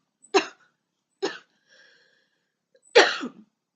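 A person coughing three times, sharp separate bursts spaced about a second apart, close to the microphone in a quiet room, with a faint breathy sound between the first two.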